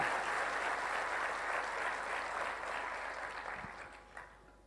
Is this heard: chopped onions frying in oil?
no